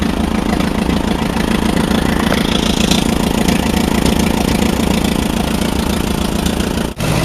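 An Allis-Chalmers WD45 tractor engine idles steadily and loudly up close, a constant low rumble with a throbbing firing rhythm, alone with no voices, briefly dipping near the end.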